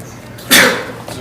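A single sharp sneeze bursts out nearby in a municipal courtroom, loud and sudden, amid quiet room noise.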